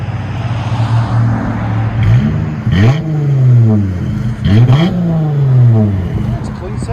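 A Dodge Challenger V6 with knockoff Flowmaster race mufflers and a rear delete, revved three times in quick blips from a steady idle, recorded close to the tailpipes with a deep, droning exhaust note.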